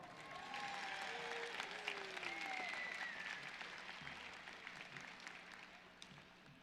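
A graduation ceremony audience applauds in a continuous wash of clapping, swelling in the first seconds and then slowly fading, with faint crowd murmur and no voice over it.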